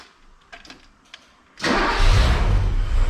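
A BMW E24 635CSi fires up after sensor work, with faint clicks and a short crank before the engine catches abruptly at mid-clip and settles into a loud, steady idle.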